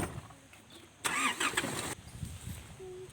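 A car engine starts and pulls away at a Thai elephant-keeping site, a loud broadband burst lasting about a second before settling into a softer engine rumble with faint background noise.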